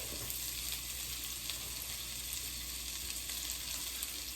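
Thyme, chopped onions and garlic, seasoned with salt and pepper, sizzle and fry steadily in a pan on the stove, a close, continuous crackle with no voices.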